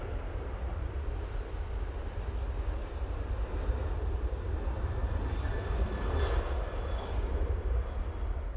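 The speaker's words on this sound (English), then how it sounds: "There's the prop. Coming in from Belfast using the ATR 72" An ATR 72 turboprop airliner arrives at Manchester from Belfast, its engines a low, steady droning rumble at a distance, mixed with wind across the microphone.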